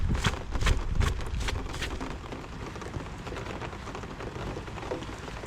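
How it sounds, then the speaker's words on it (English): Heavy rain pours steadily outdoors, a dense, continuous hiss with louder pattering bursts early on, close and loud throughout with no talking. "Pretty decent rain as well, heavy fall"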